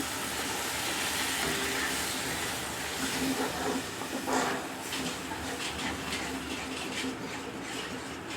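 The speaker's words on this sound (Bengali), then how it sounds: "আমি মিষ্টি ধোয়া জল দিয়ে দিচ্ছি।" Water left from rinsing sweets is poured into a hot pan of egg do-pyaza. A steady, fairly quiet broadband hiss with a low rumble runs throughout, swelling slightly midway with faint crackles.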